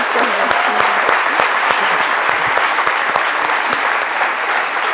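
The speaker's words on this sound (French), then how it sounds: "Applaudissez, s'il vous plaît." A studio audience on a French midday show bursts into loud, dense applause that holds steady for the full five seconds, with a few individual claps audible in the wash.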